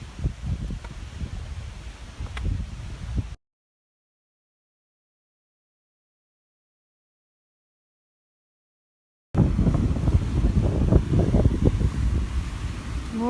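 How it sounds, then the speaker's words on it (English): Gusty wind buffets the microphone in rough, low rumbling bursts, then drops to silence before blowing hard again, on a Lake District fell walk near a waterfall. "The wind's picked up."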